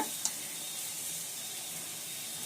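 Potato fries in oil in a pan, giving a soft, steady sizzle and hiss throughout with one tiny pop near the start.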